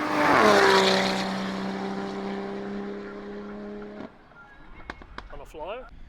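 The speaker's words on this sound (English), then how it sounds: "Here goes the Mark 5 Supra." Toyota Supra Mk5 race car on a time attack lap, engine note loud and rising as it passes nearby, then a long steady drone fading away as the car recedes; a voice briefly talks near the end.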